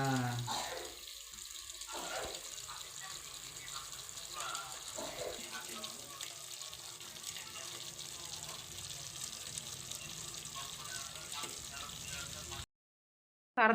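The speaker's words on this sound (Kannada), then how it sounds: "ನಾನು ಬಿಸಿ ನೀರು ಅದು ಹಾಕಕತ್ತೀನಿ" Hot water runs steadily into a vessel, a continuous splashing pour that lasts several seconds with faint voices in the background before stopping abruptly.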